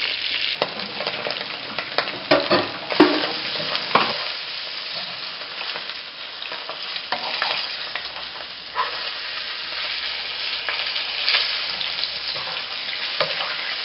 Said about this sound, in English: So as you can see, I'm basting that again.